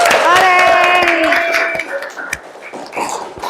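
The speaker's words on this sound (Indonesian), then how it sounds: "Ya, kita tepuk tangan untuk kita semua." A physics class clapping hands together, scattered claps that follow a loud voice at the start, with talking and chatter mixed in.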